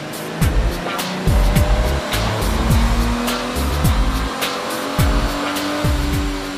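A 2007 V6 Mustang runs on a Dynojet dyno in a shop, its engine droning loudly with repeated rising and falling revs and sharp shifts, no talk.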